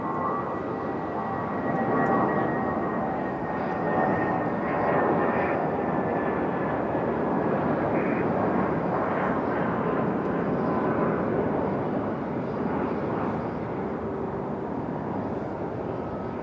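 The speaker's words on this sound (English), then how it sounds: "Here we go, early rotation for our A319." An Airbus A319 takes off from Raleigh-Durham International with an early rotation, its jet engines roaring in a steady, full drone that stays loud and even throughout.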